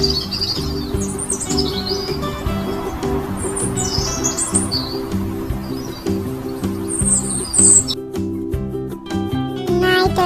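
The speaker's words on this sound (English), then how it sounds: "Robin." Robin song with bright chirps and whistled phrases, loud and close, over a steady low tonal drone, with sharp clicking bursts near the end.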